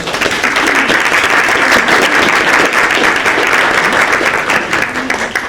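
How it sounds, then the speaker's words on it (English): A theater audience applauds loudly and continuously, a thick wash of clapping from a full house that holds steady before easing slightly at the end. "I want to give our theater members a round of applause."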